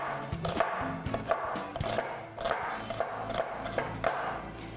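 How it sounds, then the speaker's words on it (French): Garlic being minced with a knife on a board, a run of quick, irregular close chopping taps with some low thuds, fairly steady throughout and with no voices. "je vais hacher de l'ail"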